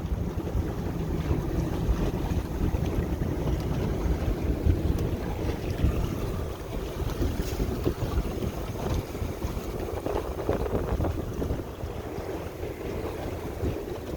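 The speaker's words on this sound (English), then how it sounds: "Engine seems to be running great." A Chris Craft Scorpion 210 boat runs out on open water, its engine a steady low drone blended with wind rush and splashing water, continuous and fairly loud with no voices.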